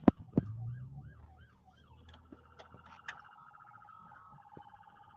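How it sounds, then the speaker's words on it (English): Wailing emergency vehicle sirens from a fire department rise and fall in the distance, faint but continuous across the stretch, with a couple of sharp knocks near the start. "And so there they are with the sirens."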